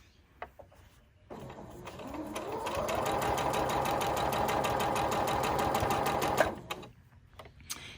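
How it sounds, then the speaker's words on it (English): Sewing machine stitching improv log cabin fabric pieces for a pin cushion, one continuous rapid run of about five seconds after a few clicks, close and steady, ending with quiet handling sounds. "only sew to the edge of the other pieces of fabric you've already sewn down"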